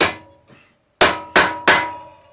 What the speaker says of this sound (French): Un petit coup de marteau